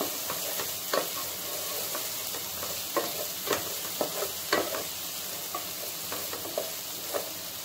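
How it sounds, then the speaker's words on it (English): Onions and okra frying in a pan for Kerala-style sambhar, a constant sizzle punctuated by regular spatula taps and scrapes against the pan, close and clear with no talking. "That's why we fry it with the onions"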